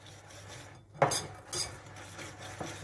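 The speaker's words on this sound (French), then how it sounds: "Donc là, vous mélangez le tout." Utensil scraping and clinking in a bowl while walnut powder is mixed into frangipane batter, with a sharp clatter near the middle and a few lighter strokes after, quiet and close.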